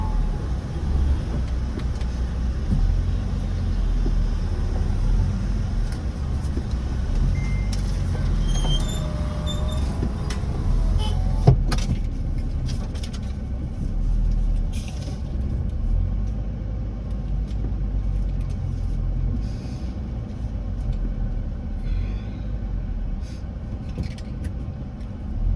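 Car driving along a road and overtaking, a steady low engine and road rumble heard from inside the vehicle, continuous throughout with a few faint clicks and no clear talking.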